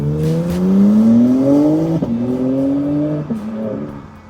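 A BMW M3 engine revs up in a loud, rising drone, then steps down through a couple of downshifts with brief blips, the exhaust note dropping and settling near and steady.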